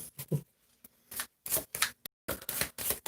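A deck of tarot cards is shuffled by hand in quick, crisp riffling bursts separated by short pauses, close up and with no talking.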